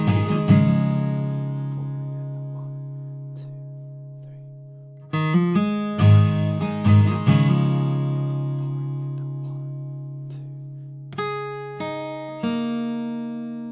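An acoustic guitar strums the first line of chords from a song, ringing chords struck one after another with long sustained decays between strums, clear and close, alone.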